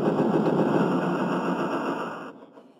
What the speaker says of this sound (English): That's a good sounding bus.